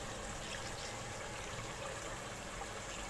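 Water poured into curry masala paste in a pan while cooking chicken curry, a steady quiet trickling and sizzling wash that runs unbroken for about three seconds with no talk.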